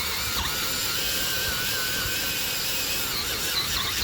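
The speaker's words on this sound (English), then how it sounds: "I'm just going to use a little polisher, battery operated polisher" Small battery-operated polisher scrubbing a classic car headlamp on a 1965 Mercedes W113 Pagoda 230 SL, a continuous high buzzing whir with slight pitch wobble, close and steady throughout.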